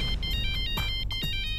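An electronic ringtone plays a short repeating melodic pattern, loud and close, with a couple of thumps underneath.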